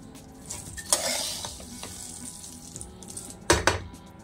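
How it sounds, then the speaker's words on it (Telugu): Seeds fry over medium heat in hot oil in a kadai with a continuous close sizzle. Scraping stirs and a few sharp metallic clinks of a spoon against the pan punctuate it. "మీడియంలోని పెట్టుకొని జాగ్రత్తగా వేపుకుందాం ఈ గింజలండి లోపల దాకా వేగాలి"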